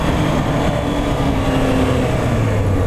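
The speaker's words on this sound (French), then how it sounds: "On accélère un bon coup. On accélère, on lâche." Motorcycle on a closed training plateau engine revving under hard acceleration, then the throttle easing off; a steady, loud, continuous drone with low rumbling layers throughout.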